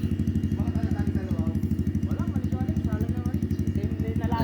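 A Yamaha XSR155 motorcycle with an aftermarket full exhaust idles with a steady, muffled, pulsing exhaust note, quieted by a silencer, while a voice speaks faintly over it.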